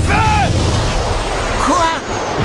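A roaring, whooshing burst fills the moment of the Fire Tornado special shot in the Inazuma Eleven soccer anime, with short rising tonal swoops near the start and again later over a dense, sustained rumble.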